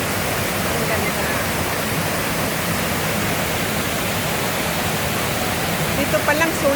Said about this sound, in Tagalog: Andito na tayo sa waterfalls na napakaganda.